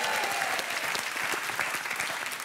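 A studio audience claps steadily on a French television show, a dense, even wash of applause with no break.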